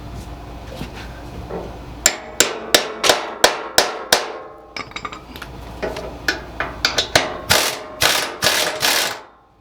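Sharp metallic hammer blows ring out in quick bursts while a 1987 Toro Proline walk-behind mower is being restored, with over a dozen close, loud strikes in irregular clusters and short pauses between them.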